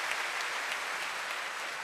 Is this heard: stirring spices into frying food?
no